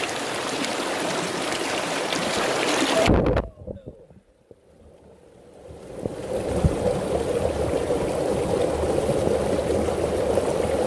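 Water sloshes steadily as a gold pan full of wet sand and gravel is agitated, with a continuous watery rush that drops to a brief muffled lull midway before the sloshing returns at full strength.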